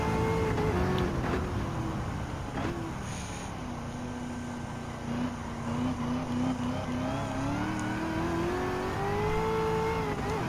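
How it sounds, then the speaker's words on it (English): Racing car engines roar in Gran Turismo 7 on Trial Mountain, including a Ford Mustang Mach 1 and a 2016 Chevy Camaro SS. Loud sustained engine drone rises and falls in pitch with shifting and acceleration, continuous throughout. "there's B Batter in the same Ford Mustang Mach 1. Going up, overtake"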